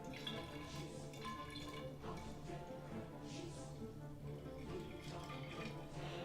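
Homemade mead leaking from a homebrew container, a soft continuous trickle with faint drips under a low steady background hum, quiet and close, no talk.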